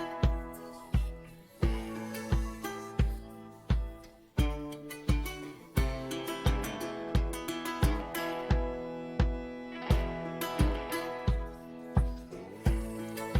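A deep, punchy bass riff repeats over a driving drum beat in a drum and bass remix, loud and steady with regular thumping kicks.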